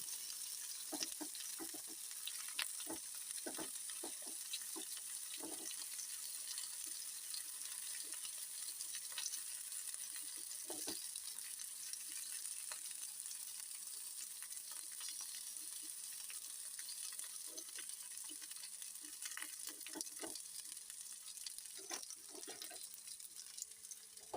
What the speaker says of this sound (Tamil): இது வந்து எண்ணெயிலேயே நல்லா வெந்துடணும் இந்த கத்திரிக்காய்